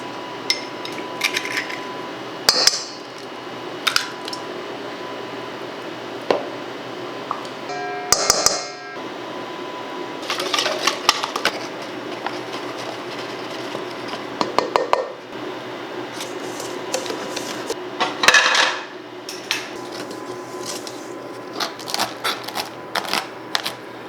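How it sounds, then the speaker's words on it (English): Muffin batter with raspberries is mixed in a bowl, giving scattered clinks, taps and soft wet squishes close by, irregular and quiet with brief gaps and no talking. "Let's start mixing some of this up"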